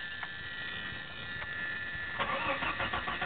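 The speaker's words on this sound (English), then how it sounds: "I'll start it up for you" A 1990 Jeep Cherokee Sport cranks and its engine catches about two seconds in, settling into a rough idle, heard close by over a steady chime tone with no talking.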